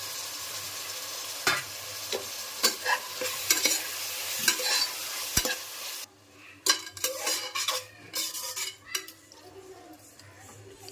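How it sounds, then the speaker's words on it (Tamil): Prawns stir-frying in hot oil for prawn biryani, a steady sizzle broken by repeated sharp scrapes and clinks of a spatula against the pan, loud and close with no voices. "எறா போட்டு சும்மா எண்ணெயில் 2 பெரட்டு. எறா கொஞ்சம் எண்ணெயிலே ஃப்ரை ஆகுது."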